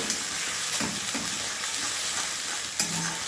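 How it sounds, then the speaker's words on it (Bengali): A spice paste of ginger, garlic, green chili, onion and tomato fries in a pan for crab malaikari, a continuous close sizzle broken by a few scraping stirs. "মশলাটা আমি ভালোভাবে কষে নেব"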